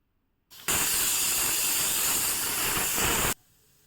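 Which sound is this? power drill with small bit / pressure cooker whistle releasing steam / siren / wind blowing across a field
pressure cooker whistle releasing steam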